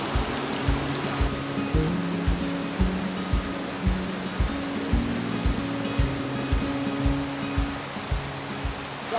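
Water from a waterfall in Argyll splashes onto a log, a continuous rushing hiss with soft rhythmic splashing pulses underneath, fairly quiet and with no voices.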